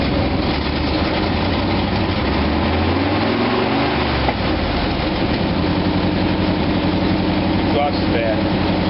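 A steady, low car engine rumble idles continuously near the tailpipe, with a constant broadband hum of exhaust and faint voices murmuring underneath.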